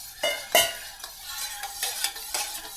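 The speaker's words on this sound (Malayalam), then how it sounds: "കുറച്ച് വെള്ളവും കൂടെ ഒഴിച്ച് മിക്സ് ചെയ്യുക." A spoon stirs a turmeric, vinegar and water mixture in a small container, with several sharp clinks against the sides amid soft swishing, close and fairly quiet.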